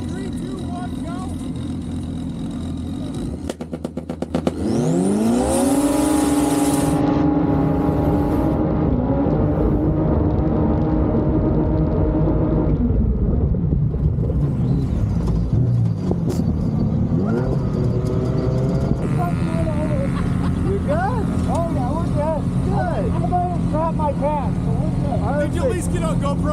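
Engines of turbocharged drag-racing cars revving and accelerating hard, rising whine and roar after a quieter start, loud and close with shifting pitch, people talking over it at times.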